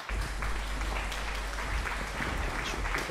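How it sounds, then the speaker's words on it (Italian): Applause effect from the Trader Life Simulator video game, dense steady clapping at moderate volume that starts abruptly and holds for about three seconds, with no voices. "Applausi."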